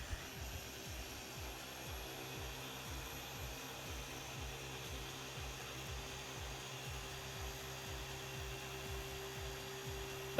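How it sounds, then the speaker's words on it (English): A Flex XFE 7-12 polisher works correction compound on a car finish, a quiet steady motor whir with a faint rhythmic pulsing wobble that runs unbroken throughout, no voices. "we're using the same polisher, the Flex XFE 712 83-inch polisher"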